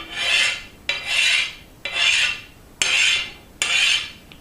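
A hand file scraping along the steel blade of a homemade blacksmith-forged ninja sword, five loud, rasping strokes in a steady rhythm, each broad and hissing, close by with no talk.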